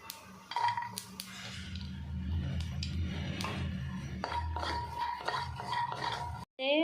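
Green chillies roasting with peanuts in a pan for a spicy raw-tomato thecha, stirred with a utensil that scrapes and clinks against the metal over a steady low roasting rumble, ending in a brief louder clatter.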